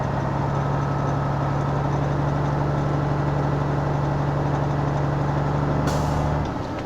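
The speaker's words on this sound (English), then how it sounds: "I just heard the truck sneeze." Semi-truck air brake system releasing a sharp, loud hiss of air as the governor cuts out during a pre-trip inspection, heard over a steady, close engine idle that drops off right after.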